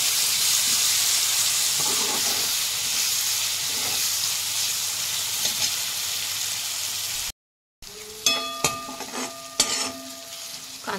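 Onion fried golden brown and freshly added tomato sauté in a pan, with a steady close hiss and sizzle for most of the time, then a short pause followed by sharp clinks and scrapes of a spoon stirring against the pan.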